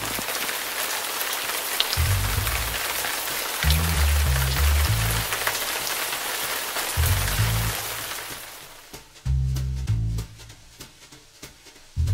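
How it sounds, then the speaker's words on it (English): Steady rain hisses across a surface during a mountain bike ride on the Camino, with low rumbling bursts of wind or engine noise rising and falling underneath. "And finally, the rain has caught up with us."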